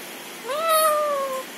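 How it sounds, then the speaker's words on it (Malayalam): A house cat lets out a single drawn-out meow, rising then slowly falling, close by and alone against a quiet background. "മിയാ മിയാ പൂച്ച"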